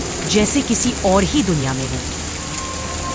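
Steady rain pours during a stormy night in a horror story, a constant broadband wash under someone speaking.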